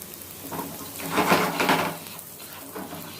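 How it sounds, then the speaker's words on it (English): Govindabhog rice sautéing in a pan, with a soft sizzle and scraping stirs of a utensil against the pan, moderately close and swelling briefly in the middle. "saute it till the time you see that the rice has started to change its color."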